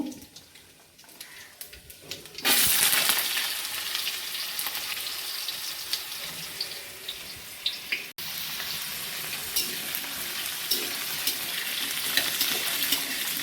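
Potatoes go into hot oil in a kadai over a high gas flame. After a quiet lead-in, a loud sizzle erupts, then holds as a steady close frying hiss with scraping stir sounds.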